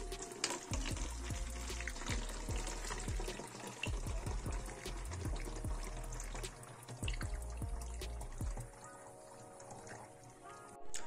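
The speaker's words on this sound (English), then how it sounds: "So now we're just gonna throw the mother liquid." Mother liquor decanted off cobalt carbonate being poured away, a steady close splashing liquid stream with drips and gurgles running throughout, no voices.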